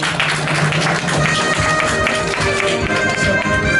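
An audience at an anime convention's quiz-show game claps for a contestant who has just walked away. The applause is a fairly loud, continuous patter that lasts a few seconds.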